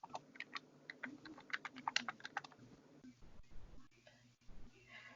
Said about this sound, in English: he's typing because I'm also doing Skype with him on my phone, and he's typing things there